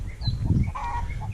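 Loud honking chicken calls, harsh and repeated, close by over a low rumbling background; sounds like agitated poultry squawking.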